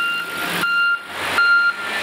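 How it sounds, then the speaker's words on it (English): A nearby truck lifting shipping containers gives a steady, loud mechanical drone with a high reversing-style beep that cuts in and out, with no talking. "Guy over there is picking up containers, so it's really noisy"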